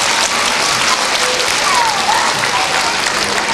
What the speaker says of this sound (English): can everybody give Ty another big, big, big round of applause?